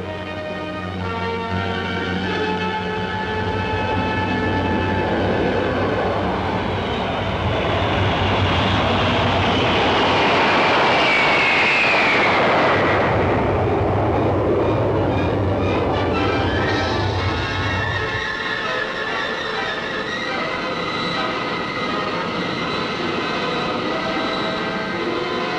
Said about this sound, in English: A SAC B-58 streaks in a sustained speed run over a 670-mile closed course